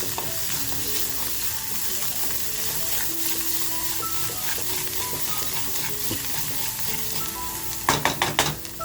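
Spice masala frying and being stirred in a pan for a fish curry, a steady sizzle with scraping stirs, ending in a few sharp metallic clatters of the spoon against the pan.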